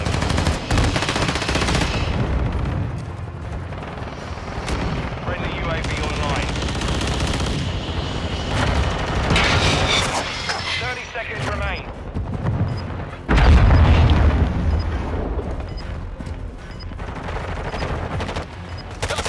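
Automatic and single-shot gunfire crackles through a Call of Duty Kill Confirmed match on the Shoot House map, dense and loud nearly throughout, with a heavier burst midway and voices talking over the shooting.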